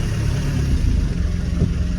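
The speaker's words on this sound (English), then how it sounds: "I'm backing into my driveway" A car engine idles and creeps at low speed while backing into a driveway, a steady close rumble with no voices.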